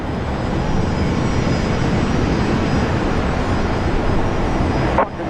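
Airbus A350 jet at Brisbane Airport, a steady, loud broadband engine roar holding constant throughout before dropping off abruptly near the end, with no talk over it.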